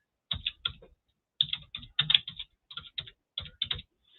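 Bursts of typing on a computer keyboard, close and clear, with quick clusters of key clicks separated by short pauses and no talking.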